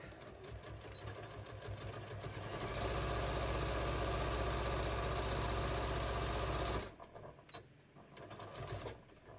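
A sewing machine stitches straight quilting lines up and down a beach tote pocket, a loud steady whir that runs for several seconds, then stops, leaving a few faint handling clicks.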